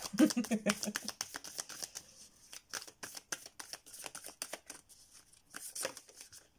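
Tarot cards are handled and put away with a series of soft, quick shuffling and flicking sounds, close and fairly quiet, with a voice speaking briefly at the start.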